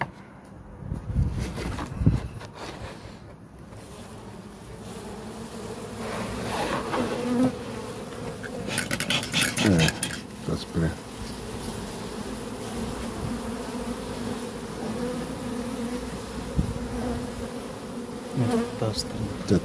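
Honeybees buzz around an open top bar hive during a July honey harvest near Sofia, a dense continuous hum with louder individual bees passing close by.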